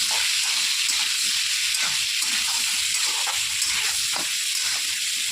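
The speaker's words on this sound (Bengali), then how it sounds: "দিয়ে হালকা করে ভেজে নেব।" Potato pieces fry lightly in hot oil with chili powder and salt, giving a steady, bright sizzling hiss with scattered small pops and crackles, close up and continuous with no talk.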